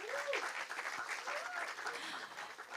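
Audience applause for two debate teams after a round, a soft, even wash of clapping from a crowd somewhat distant, with a voice sliding in and out over it.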